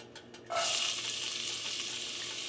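Celery dropped into hot bacon fat in a pot for New England clam chowder, a sudden loud sizzle that bursts in and then holds steady as a continuous frying hiss.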